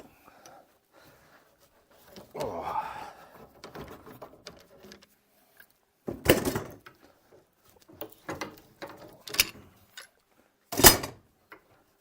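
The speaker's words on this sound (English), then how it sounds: "Then we've got the various clamps that need to come off." Clamps being removed from a wooden boat under construction, giving a series of close, sharp clunks and knocks with scraping between them, spaced irregularly across the stretch.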